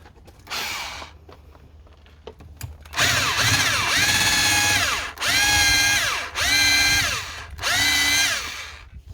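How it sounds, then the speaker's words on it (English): A power drill whirs in a couple of brief test spins, then four longer, loud bursts of drilling into brick follow with short pauses between. "Again, just drill out the hole."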